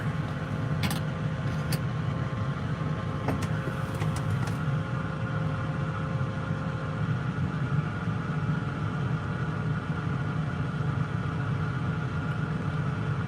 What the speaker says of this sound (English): Warming the engine and the hydraulics up,